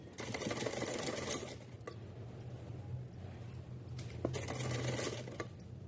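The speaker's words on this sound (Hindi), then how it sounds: "डोरी को बचाते हुए हमें सिलाई लगानी है" A sewing machine stitches cotton cloth for a small Laddu Gopal outfit, running in two close bursts with a steady low mechanical hum and clicking between them.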